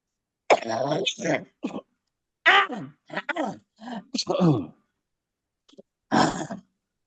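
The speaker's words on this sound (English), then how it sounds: "I had to clear my throat." A person clears their throat several times in rough, guttural bursts separated by short pauses, close and fairly loud.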